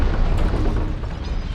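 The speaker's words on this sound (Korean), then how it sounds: "가까운 곳에서 엄청난 폭발음이 들렸죠" A huge explosion goes off nearby in a wartime drama: a dense, heavy rumbling roar of debris and fire that fills the space and slowly thins out.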